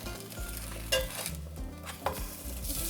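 Steady, close sizzling of arepas frying in a skillet, with a couple of brief utensil scrapes as they're moved.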